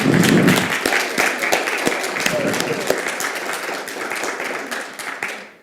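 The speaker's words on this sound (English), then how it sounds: "Can we give her another round of applause?" An audience at a spoken talk on vulnerability claps for a speaker. Dense, crackling applause that is loudest at the start, then holds steady with sharper individual claps poking through before it fades near the end.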